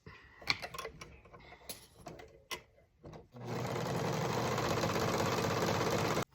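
Sewing machine stitching a sleeve lining for a lace sleeve overlay on a raglan top: a few seconds of scattered handling clicks and rustles, then a steady, loud continuous whir of fast stitching that runs to the end.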